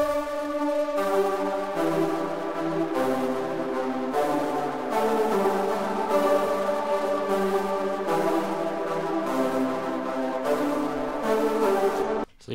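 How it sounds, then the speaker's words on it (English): A synth trumpet patch from a Shinju bank in the Serum synthesizer, drenched in heavy delay and reverb, playing a slow melodic line of sustained notes that trail into one another, wet and spacious, with no voices. "This is the synth trumpet from a Shinju Serum Bank."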